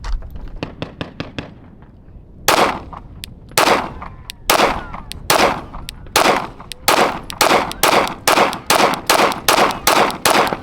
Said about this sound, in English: We're going to be shooting the 15 147 grain FMJ with the tungsten guide rod in there.